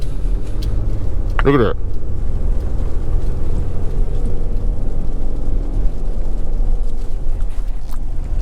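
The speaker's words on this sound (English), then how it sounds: "So I'm about to pull up, road is wet, and we're going up the incline." Lifted truck on Nitto Ridge Grappler tires accelerating up a wet incline, with a loud, steady engine and road roar throughout, wind buffeting, and a brief voice speaking near the start.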